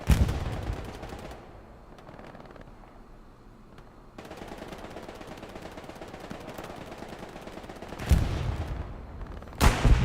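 Machine gun fire in the video game Hell Let Loose, with loud bursts at the start, quieter distant battle noise in the middle, a steady stretch of rattling fire, then two sharp loud bursts near the end.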